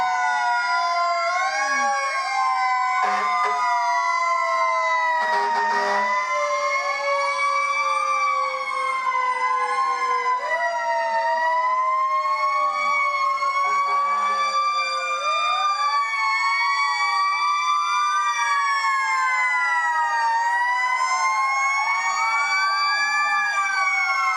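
Loud fire engine sirens wail continuously at an Independence Day parade, several rising and falling tones overlapping close by throughout.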